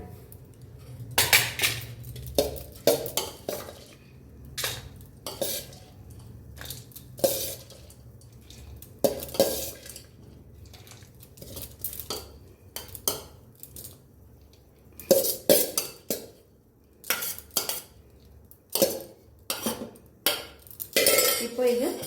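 Sundal spooned from a cooking pan into a serving bowl, with repeated metallic scrapes, clinks of a spoon against the vessel and sharp clatters in irregular bursts, close up, without speech.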